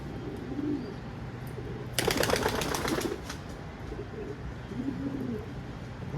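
Soft low cooing from a pigeon repeats a few times against steady background noise, with a brief burst of flapping or rustling in the middle.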